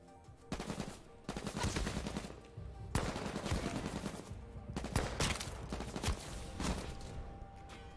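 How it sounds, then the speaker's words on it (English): Gunfire in the battle royale game H1Z1 rattles out in dense, rapid bursts, several long automatic volleys separated by brief gaps, loud and alone with no talking. "Who's shooting me?"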